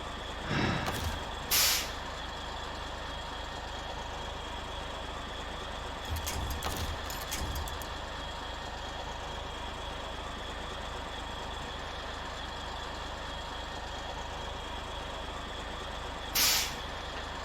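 Heavy truck in SnowRunner rolling onto a ramp, a steady low engine rumble with a few sharp hissing air-brake bursts early on and another near the end, no talk.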